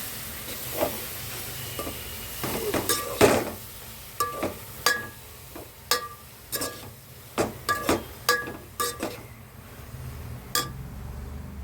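Puffed rice stirred with a spoon in a pan on a stove on low heat for a spicy snack, a series of soft scraping and clinking strokes in an uneven rhythm over a faint sizzle, close by and fairly quiet.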